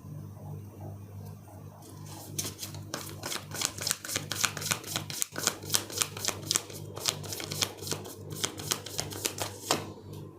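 Tarot cards are shuffled and drawn by hand in a quiet room, giving a dense run of rapid, close papery riffles and slaps with brief pauses between bursts.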